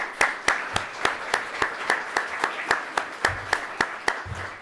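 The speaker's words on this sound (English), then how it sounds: "Give them a big round of applause." An audience at a Poetry Out Loud 2015 event in Juneau claps in a steady, evenly spaced rhythm, sharp separate claps repeating about three times a second at moderate volume.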